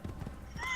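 Horse hooves in the Assassin's Creed video game, a few quick soft clip-clop steps in a brief burst, followed by a faint whinny-like tone at the very end.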